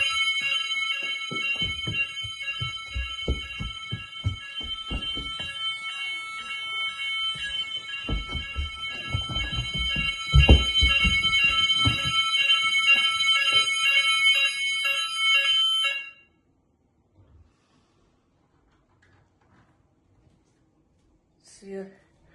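EMS Smartcell wireless fire alarm sounding its French fire tone, a loud, piercing repeating electronic pattern that plays steadily for about sixteen seconds, with footsteps and handling noise beneath it, then cuts off to near silence.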